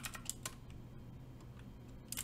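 Keys clack in quick, uneven bursts while someone types on a Preonic ortholinear mechanical keyboard, close and fairly quiet.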